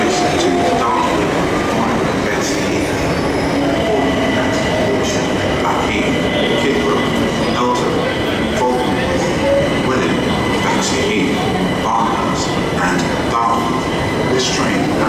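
Southeastern train at London Bridge station, London, a steady broadband rumble of rolling stock with faint wheel squeal and clicks, loud and continuous throughout, with a station announcement voice faintly in the background.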